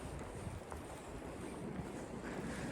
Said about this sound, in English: the wind is not so heavy and the snow just a little bit